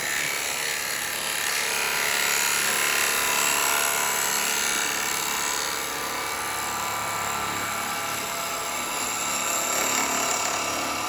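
Steady broadband hiss of a wood chisel cutting a cherry almond natural bowl spinning on a lathe, a continuous close shearing rasp holding loud and even throughout with no voices.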